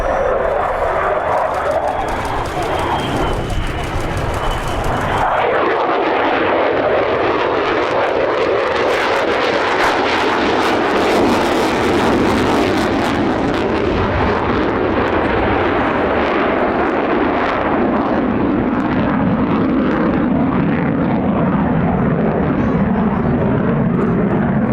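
An F-35B fighter jet, the short-takeoff vertical-landing variant, flying at the Sywell Aerodrome airshow, producing a loud, continuous, rumbling roar that swells and shifts throughout.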